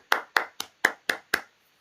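Six sharp hand claps ring out close and clear in an even, quick rhythm, followed by silence.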